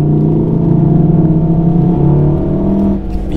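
Engine note of a 2018 VW Golf R in race mode, piped into the cabin: a loud, steady low growl holding evenly for about three seconds before easing slightly, with no talking over it.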